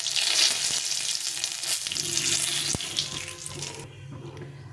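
Dried chili, cumin seeds and a bay leaf crackle in hot oil as a tempering: a dense, bright sizzle close up that stays loud for several seconds, then suddenly thins out toward the end.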